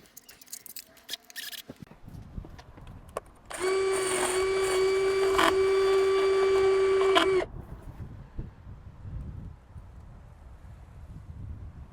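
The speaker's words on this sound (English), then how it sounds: "I'll try to drill a slightly bigger hole" After some handling noise, a drill whirs steadily for about four seconds with a high tonal whine, then stops, leaving quiet shuffling and movement.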